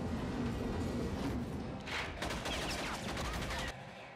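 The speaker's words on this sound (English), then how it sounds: "Yeah, they're shooting at each other." Gunfire from a television action scene, a dense burst of shots and thuds over a steady wash of background sound, fairly loud and continuous for a few seconds.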